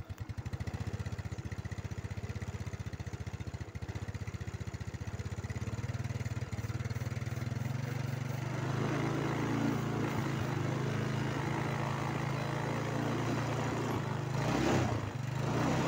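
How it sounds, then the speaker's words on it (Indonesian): A motorcycle engine starts and settles into a steady idle to warm up, a continuous close rumbling putter that grows a little fuller partway through, with no talking. "kita cek hidupkan motornya dulu, kita panasin ya istilahnya, kita hidupkan beberapa saat"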